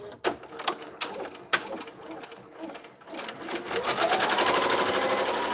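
Multi-needle embroidery machine stitching, starting with irregular clicks and taps and building into a steady rapid mechanical whirring rattle, close and moderately loud.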